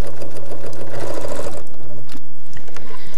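Sewing machine stitching fabric with a pin in the seam, a loud close mechanical whir with a rapid rhythmic needle chatter that slows and stops partway through, then starts again briefly.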